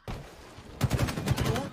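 Rapid gunfire in the shooter Halo Infinite during a King of the Hill match, a sudden opening shot followed by a dense burst of close, loud automatic fire.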